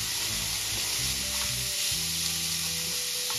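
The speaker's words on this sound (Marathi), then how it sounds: "गॅसची फ्लेम हाय ठेवायची आणि हाय फ्लेमवरच या भाज्या परतून घ्यायच्या आपल्याला किम्यासोबत।" Cabbage, carrots and minced chicken stir-fried on a high flame, a loud continuous sizzle and crackle with rhythmic scraping and tossing in the pan, no talking.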